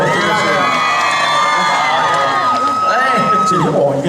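A crowd at a summer thanksgiving concert in Taipei cheers loudly and continuously, with a wash of excited shouting voices and little distinct clapping.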